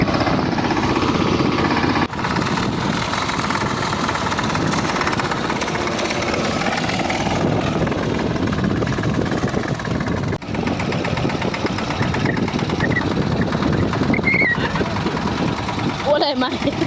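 A tractor engine drones steadily and loud throughout while sowing in a field after rain, a continuous rumbling with some clatter, with voices talking over it at times.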